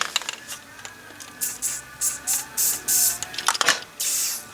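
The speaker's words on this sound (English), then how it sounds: "I'm just going to take some black spray paint" Short hissing bursts of a black spray paint can, irregular and close, with brief pauses and faint clicks between sprays, painting the cheek pads of a vintage helmet.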